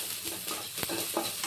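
Crushed garlic fries in hot oil, giving a brief, steady sizzle with light stirring scrapes close by.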